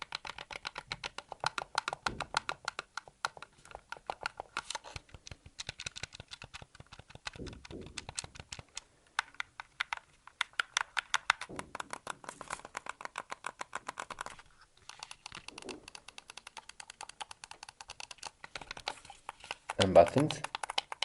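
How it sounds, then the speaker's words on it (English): Button presses on a Machenike G5 PRO Max SE gamepad come as dense, rapid runs of small plastic clicks and taps. Brief pauses break them up, with a faint rustle now and then. "ASMR test of this gamepad."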